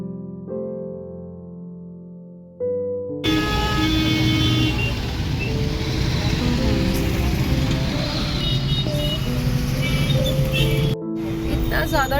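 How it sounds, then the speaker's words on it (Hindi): Busy road traffic with cars, buses and honking horns, a loud continuous roar with repeated toots, after a quieter tonal stretch at the start; someone talks over it. "ज़्यादा ट्रैफिक हो रखा है यहाँ पे"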